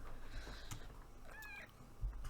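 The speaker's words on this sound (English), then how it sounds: "I've got a cat again." A house cat meows twice, short tonal cries about a second apart, fairly faint against a low background hum with no one talking.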